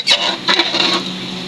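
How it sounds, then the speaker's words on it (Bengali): A spoon scrapes and stirs chicken curry with potatoes in a pan, giving two or three quick, rasping close strokes against the metal base. "ভালো করে নেড়ে নিচ্ছি যাতে তলায় না লেগে যায়।"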